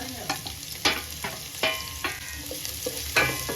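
Chana dal, crushed ginger and curry leaves sauté in hot oil with a steady sizzle, punctuated by several distinct scraping stirs of the spoon against the pan, close and alone.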